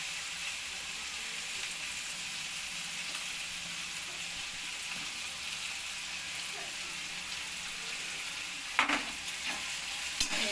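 Carrots and beans stir-fry in a pan, a steady sizzle with occasional scrapes and clinks of a spatula near the end. No one speaks over it.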